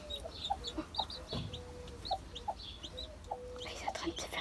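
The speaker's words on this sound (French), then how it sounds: "Et toi, t'es content de voir tes poussins?" Baby chicks cheep in repeated short high notes close by, with some soft clucking from a hen mixed in and quiet background noise.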